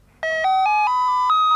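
A doorbell chimes loudly and close in a home, a clear electronic melody of several sustained stepped tones ringing out with no talking.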